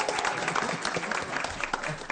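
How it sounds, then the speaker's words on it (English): A school board meeting crowd gives a round of applause for a new school principal, a brief, dense clatter of many hands clapping at moderate distance. "Let's give her another round of applause"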